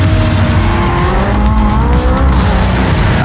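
Vintage Le Mans-winning Porsche race car in Project Cars 2, its engine roaring loud and close at steady high revs with squealing tires throughout.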